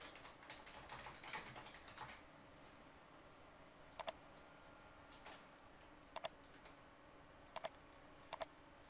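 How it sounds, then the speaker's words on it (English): Clicking and typing on a computer while editing an invoice, a soft patter of keystrokes followed by several crisp mouse clicks, most of them in quick pairs, faint and close in a quiet room. "We can click this icon to modify our invoice, so we could add additional items to it."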